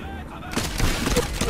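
In Medal of Honor Airborne, a heavy burst of gunfire erupts after a brief quieter moment, loud and dense with echoing blasts.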